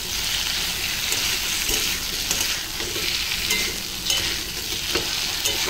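Mustard paste fries in a pan for a Bengali fish curry with potatoes, a continuous loud sizzle with scraping stirs running throughout, close and without talk.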